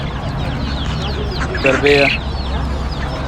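Native village chickens cluck, with one louder burst of calls near the middle at a bird market. Other fowl are around, and someone talks over the sounds.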